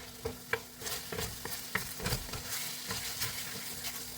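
Taco filling is stirred in a pan, a soft scraping and shuffling with a low sizzle underneath, several irregular louder scrapes standing out from a quiet kitchen background.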